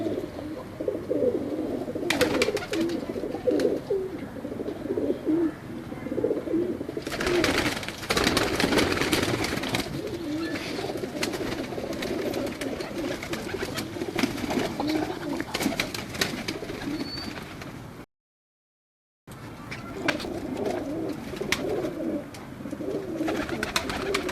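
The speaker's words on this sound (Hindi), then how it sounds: "ये जी उनकी माँ है कबूतरी।" Domestic pigeons cooing steadily in a loft with a female pigeon and her young, soft repeated coos with rustling and faint background noise, briefly cutting out near the end.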